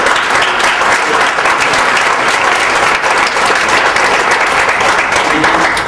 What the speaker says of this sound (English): I want to pause and give Dr. Ron Liss a big round of applause.